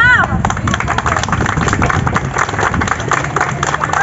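A crowd of students claps together in a steady, loud wash of applause, with some voices mixed in, at a cultural centre.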